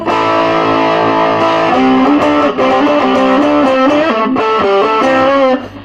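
An electric three-string phin with an alder body, played through heavy distortion, rings out loud and close in a run of sustained, buzzing single notes and quick melodic slides, with no voices, cutting off abruptly at the end.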